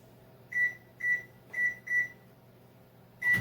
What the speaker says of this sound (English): So we're going to put that in the microwave.